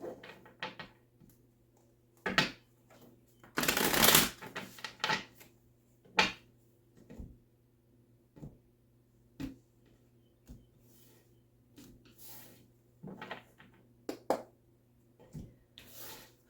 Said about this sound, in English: Just finish shuffling here